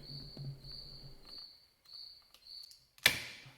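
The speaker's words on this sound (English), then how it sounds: "There was a cricket that decided to reside in my shop for near on a week," A cricket chirps steadily in repeated bursts in a quiet woodworking shop, with a low hum underneath, then a sudden sharp clatter near the end.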